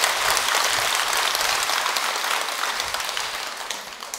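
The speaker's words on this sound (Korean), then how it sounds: "본문 시작도 아닌데 벌써부터 박수 받으면" Temple congregation at a Buddhist dharma talk at Jogyesa applauds in a bright, dense wash of clapping that gradually thins and fades over a few seconds.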